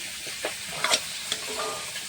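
Fish sizzling as it fries in a pan, an even crackling hiss with a few brief clinks, close and alone.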